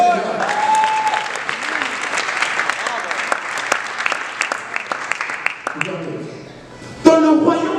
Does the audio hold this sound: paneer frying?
no